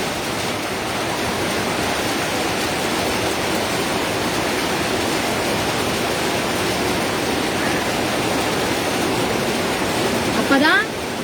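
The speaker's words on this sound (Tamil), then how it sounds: "மழை இங்கேயும் வந்தாச்சு" Rain pours down in a steady, dense hiss that fills the whole stretch without a break, loud and close, with a brief brighter flutter near the end.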